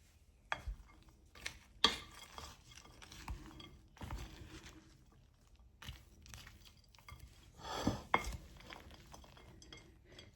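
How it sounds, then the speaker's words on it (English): Cranberry pecan chicken salad being stirred in an overfull bowl, with scattered clinks and scrapes of a utensil against the bowl and soft wet mixing noises, close and fairly quiet with no talking. "We're going to start stirring this up."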